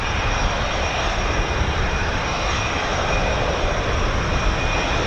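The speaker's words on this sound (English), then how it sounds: "We've got F-18 Hornets." F-18 Hornet jets flying near RAF Waddington give a loud, continuous roar of jet engine noise that fills the whole clip steadily, with no talk over it.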